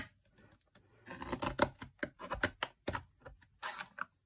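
Scissors or a trimmer cut through 120 GSM paper in a run of quick, close snipping and crunching strokes, fairly faint and uneven, with no talking.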